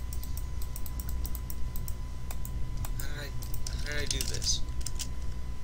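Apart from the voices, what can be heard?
computer mouse clicking while playing a video game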